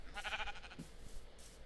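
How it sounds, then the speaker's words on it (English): A Minecraft sheep gives a single wavering bleat, quiet and close, followed by a couple of faint soft thumps in a still setting. "Oh, I do struggle with killing the sheep."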